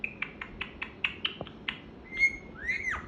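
A talking parrot indoors gives a quick run of sharp, evenly spaced chirps, then a clear rising-and-falling wolf whistle, fairly close and moderately loud.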